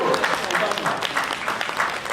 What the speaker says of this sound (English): can we give a round of applause, ladies and gentlemen?